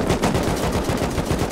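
Rapid automatic gunfire from the video game Rust rattles continuously, loud and close, in one dense burst of repeated shots.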